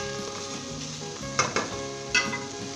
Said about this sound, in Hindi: मैंने 3 से 5 मिनट तक अच्छे तरीके से इसे फ्राई किया है तेज़ आंच के ऊपर